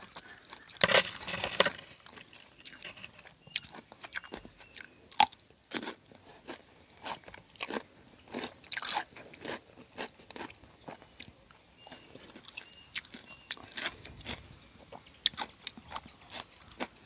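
Crunchy apple snails are chewed close to the mic, eaten with a spicy seafood dipping sauce, giving repeated crisp crunching and biting sounds in an uneven rhythm throughout.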